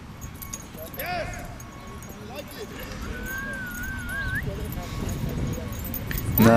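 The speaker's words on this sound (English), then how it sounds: "Nice looking husky." A husky whimpers and yips in a rising, wavering whine among other dogs outdoors in Toronto, with people talking nearby and a louder burst at the end.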